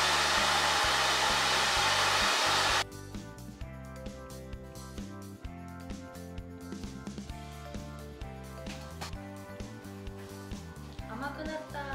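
A hair dryer blows loudly and steadily for under three seconds, then cuts off, leaving quieter background music with faint handling sounds.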